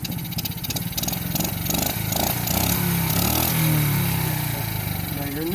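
A four-wheeler ATV engine runs close by in gear with a steady, loud, buzzing drone that rises and falls slightly as it is throttled, continuous through the whole stretch.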